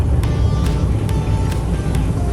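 A Honda N-BOX kei car cruises on a quiet, smooth stretch of the Ise Expressway. Heard from inside, a steady low engine and road drone runs throughout, with faint periodic thumps from the road surface.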